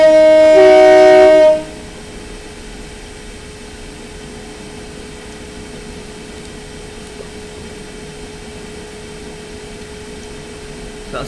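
In Train Simulator 2018, a loud, sustained train horn sounds for about a second and a half, then gives way to a faint, steady rail hum for the rest of the clip.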